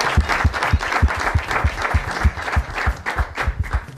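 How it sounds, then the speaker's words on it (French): Loud audience applause during a football talent show, with steady rhythmic clapping throughout and a few sharper claps standing out. "On applaudit très fort pour lui, l'intelligence."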